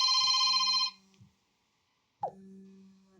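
A phone rings with an incoming call, a bright electronic ringtone for about a second that cuts off, then after a pause another, lower tone starts near and clear.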